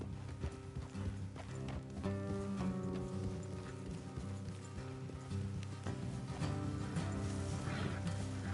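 Rhythmic hoof clip-clops from horses moving at a steady pace in Red Dead Redemption 2, set against a dense musical score with a horse snorting faintly.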